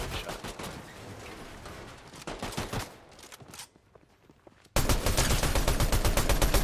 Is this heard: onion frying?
no